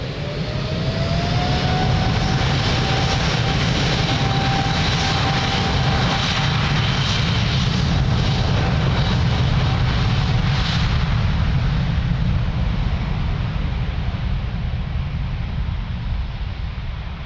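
An airliner taking off from runway 02 at Lisbon Airport, its jet engines a loud steady roar with a rising whine, holding for many seconds before thinning slightly as it departs.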